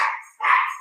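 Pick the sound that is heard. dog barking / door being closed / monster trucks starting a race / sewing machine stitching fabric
dog barking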